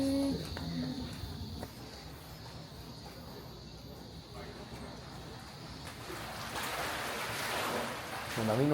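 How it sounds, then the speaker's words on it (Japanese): Sea waves wash steadily along the shore at Ine, a seaside town of boathouses, with a soft continuous surf and wind hiss rising toward the end, a few bird calls drifting in. "波の音がいい。"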